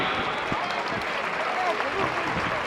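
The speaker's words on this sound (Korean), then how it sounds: "관중 여러분 모두 존경하는 마음을 담아서 박수 보내주시기 바랍니다." A large crowd at a football match applauds steadily, a dense wash of clapping that holds even throughout, with a stadium announcer talking over it.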